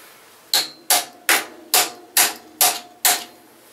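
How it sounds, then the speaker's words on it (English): Seven sharp metallic hammer strikes on a stuck bolt of a salvaged bicycle land at an even pace, each ringing briefly, close and loud with no talking. "Something just to whack that bolt with."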